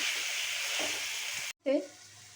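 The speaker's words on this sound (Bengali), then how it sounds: "দুধের সরটা দিয়ে নেওয়ার পরে খুব ভালো করে মিশিয়ে নিচ্ছি" Milk cream is stirred into masala frying for potato curry, giving a steady close sizzle with soft scraping, briefly cut to silence before a short clatter of the spoon.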